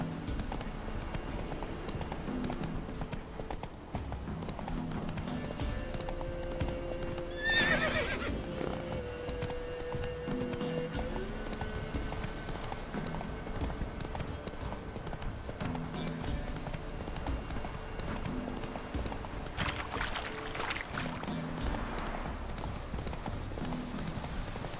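Roach, the horse in The Witcher 3, gallops with a steady rhythmic clip-clop of hooves over game music, and one loud whinny breaks in partway through.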